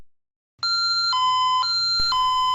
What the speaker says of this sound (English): Silence the alarm by putting your user code in, then off.